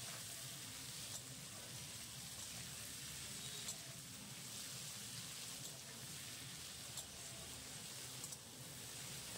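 Onions frying in a pan for Bengali chicken kasa give a steady, even sizzle that runs continuously at moderate level, with no talking.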